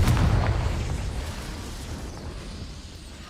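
A Confringo fire spell explodes in a video game, a single loud booming blast with a crackling roar that slowly fades away.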